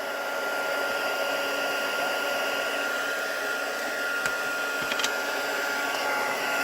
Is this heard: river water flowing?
no